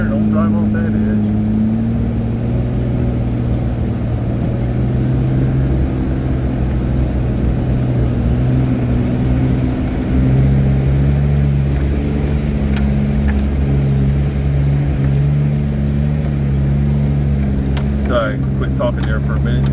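Off-road Jeep engine laboring steadily up a steep hill, a loud continuous low drone with shifting pitch throughout, with a person talking over it.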